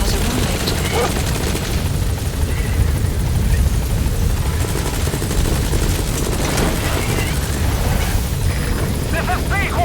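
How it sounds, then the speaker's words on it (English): A support helicopter arriving in the video game Metal Gear Solid 5, its rotor drone rumbling continuously and loudly with bursts of gunfire and game effects over it. "Support helicopter has arrived"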